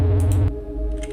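Keys clack on a computer keyboard as a numeric code is entered in a game, a handful of quick taps close by with a low droning hum beneath.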